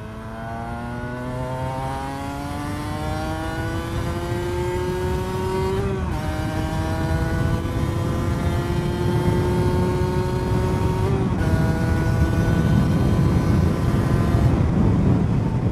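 A Cagiva Mito two-stroke sportbike engine revs hard while being ridden, its buzzing note rising steadily through the rev range with two brief drops at gear changes, continuous and close.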